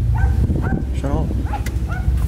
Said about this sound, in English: That little dog is barking.